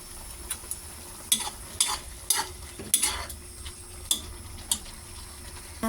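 Pancit bihon rice noodles being stir-fried in a pan, a constant sizzle broken by sharp metallic scrapes and clacks of a spatula at an irregular pace, close up with no voices.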